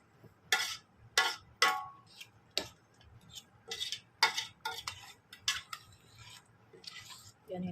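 Chinese herbal cough medicine being stirred in a pot, a spoon scraping and clinking against the sides in a series of sharp, uneven taps, fairly close with a quiet background.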